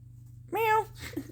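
A human voice imitates a cat's meow in one short, rising and falling call. It is up close and clear, followed by a brief murmur.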